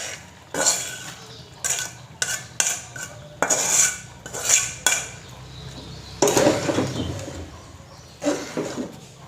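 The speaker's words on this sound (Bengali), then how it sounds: "এ পর্যায়ে আমি সে আগে থেকে রেডি করে রাখা সব সবজিগুলো দিয়ে দিচ্ছি" Prepared vegetables go into a pan of Maggi soup noodles cooked without egg or onion, making a run of close metallic clatters and scraping stirs in short bursts, with faint bird cooing in the background.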